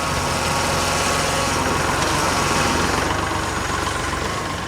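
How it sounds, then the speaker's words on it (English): A Kubota L3902 compact tractor engine idles low at a digging and grading site, giving a steady, close, even drone with a faint vibrating rumble and no speech. "I have this thing idled down so it's as quiet as it can be"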